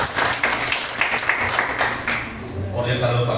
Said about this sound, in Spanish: Un fuerte aplauso para Johnny Penilla.